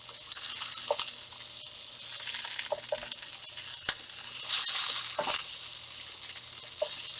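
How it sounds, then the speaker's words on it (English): Hash browns fry in a pan, crackling and sizzling continuously while a utensil stirs them, with scraping bursts and sharp clicks against the pan. "time to stir around a little bit. They don't call them hash browns for nothing."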